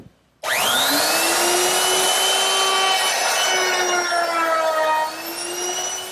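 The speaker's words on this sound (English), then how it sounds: "Okay, now I'm ready to round over the edges on my top. And for that, I'm going to use a 1/2 inch rounding over bit." A router with a 1/2 inch round-over bit starts abruptly and runs loud and close, its high whine rising as it spins up and then holding steady with a cutting rasp as it rounds the edges of a wooden trestle tabletop.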